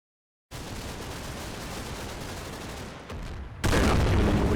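German artillery pounds a position in Combat Mission: Battle for Normandy, a steady roar of gunfire and distant blasts starting after half a second of silence, then jumping to a louder, harsher barrage near the end.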